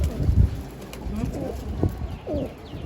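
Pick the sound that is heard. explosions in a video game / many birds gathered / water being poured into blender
many birds gathered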